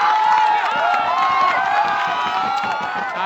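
A political rally crowd in Bihar sends up a loud, continuous wash of cheering and clapping, with voices shouting over the steady din for its whole length.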